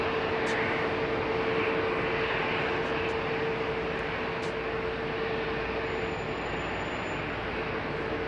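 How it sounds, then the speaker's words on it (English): A Boeing 787 taxis out at London Heathrow for New York, a steady moderate engine rumble with a constant whine running through it, heard from a distance with no talk. "Boeing 787 coming out for New York"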